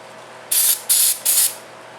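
An aerosol can fires three short, sharp hissing bursts of spray up close while working on a 1998 Arctic Cat 300 4x4 ATV's starter, with brief pauses between bursts and no talking.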